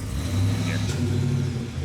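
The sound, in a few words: Local Motors car engine starting and revving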